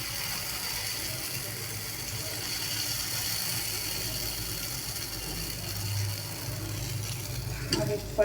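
Paddu batter sizzles steadily in hot oil in a pan, a soft continuous frying hiss with a faint low hum underneath and a few small clicks near the end.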